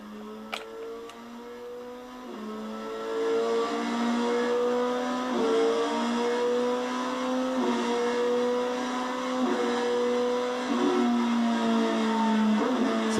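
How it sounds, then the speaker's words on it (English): A Yamaha R3 motorcycle fitted with a quick shifter climbs through the gears with the throttle held wide open, its high engine whine rising steadily, then dropping sharply at each instant upshift several times in a row. "you'll never hear him let off the gas as he upshifts through the gears"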